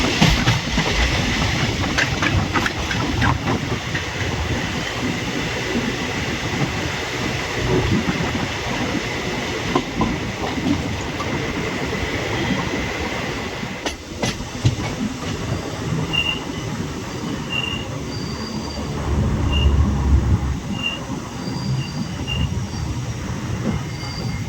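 Tuticorin–Mettupalayam Express running on the rails, steady loud rumble of wheels with rhythmic clatter and high-pitched squealing near the end, heard close from onboard, no talking.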